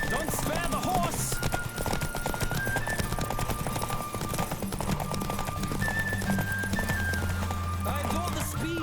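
Galloping horse in The Witcher 3 next-gen edition, hoofbeats drumming steadily under a musical score, with speech mixed in throughout.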